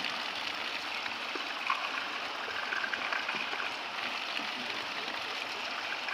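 Water pours steadily into a container while a crop spray is mixed for soybean fields, a continuous close rushing splash with no talk.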